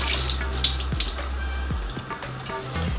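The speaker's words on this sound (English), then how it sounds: "You're just gonna drain the can." Liquid drains from an opened can of giant artichoke bottoms in a kitchen, a soft continuous trickle and splash with faint clinks, heard alone without talk.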